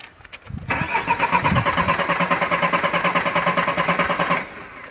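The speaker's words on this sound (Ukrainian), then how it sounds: "Автомобіль не заводиться повністю. взагалі." A car's starter cranks rapidly and rhythmically for about four seconds without the engine catching, loud and close, after a couple of clicks and a brief thump.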